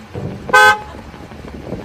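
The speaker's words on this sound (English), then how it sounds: "You did not just honk at me." One short, loud car horn honk sounds against quiet street background.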